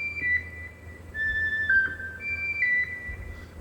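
Juno soft lead synth patch on a Roland Fantom 06 keyboard, a soft, fairly quiet lead line of held, slightly bending high notes over a low background hum.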